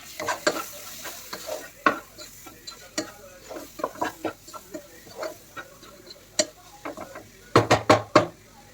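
Chicken curry stirred in a pan, a close run of sharp spoon knocks and scrapes against metal over a light sizzle, with a quick cluster of strikes near the end.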